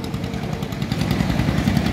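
Small tractor engine pulling a cart at a sugar mill, a steady loud chugging rumble with rapid rhythmic knocking throughout, close by.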